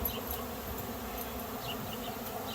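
A large swarm of tens of thousands of honeybees flying around outdoors, a steady dense buzzing drone with no talk, fairly loud and continuous throughout.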